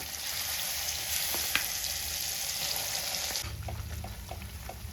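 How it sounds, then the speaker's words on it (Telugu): Tomato pickle sizzles and fries in a pan with tempering, a dense, continuous crackle with small pops and a brief clink partway through, the hiss turning lower and fuller near the end. "సో ఇలా మొత్తం పచ్చడి అంతా వేసుకొని ఒక టూ మినిట్స్ వేయించుకోండి"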